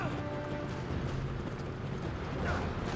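Horse hooves clip-clopping at a gallop in the Uncharted 3 video game, a steady dense rhythm under game noise and effects, fairly loud throughout.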